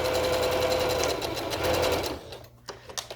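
A sewing machine runs steadily up close, finishing a seam on a kids' fabric mask with a fast, even whir, then stops and leaves a few soft clicks and handling sounds.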